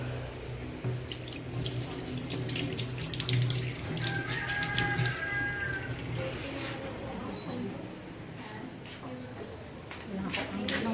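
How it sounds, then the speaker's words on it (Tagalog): Tap water runs steadily into a kitchen sink, splashing and gurgling close by for the whole stretch, while people talk over it. "Ito ang aming lababo."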